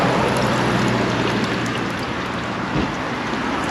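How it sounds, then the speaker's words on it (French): Water runs at a camper service point for rinsing a toilet cassette, a loud, close, steady rushing and splashing that goes on without a break for the whole few seconds. "il y a de l'eau pour rincer la cassette"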